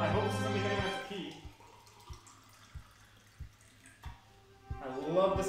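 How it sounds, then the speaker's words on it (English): Running water trickles and taps with a faint, regular dripping pattern, quiet and close, framed by a voice talking at the start and end. "I love the sound of running water"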